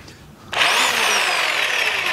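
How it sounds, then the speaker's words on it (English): A hammer drill set up for anchoring an aquarium stand to the floor starts abruptly and runs loud and steady at close range, a bright whirring grind with no talk. "it can also be used as a lightweight demolition hammer."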